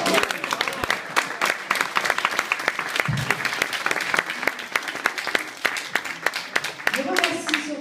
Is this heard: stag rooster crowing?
no